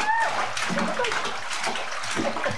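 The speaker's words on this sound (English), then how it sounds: "I want her to splash really fast." A child splashes water in a bathtub with quick, repeated slaps and sloshes, close to the microphone, and voices are faintly audible amid the splashing.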